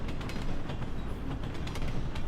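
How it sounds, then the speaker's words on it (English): A train moves past with a steady, fairly loud rumble and faint rhythmic clatter of wheels on track, continuous throughout with no talk. "Now let's consider you get off the train and observe it moving across in front of you."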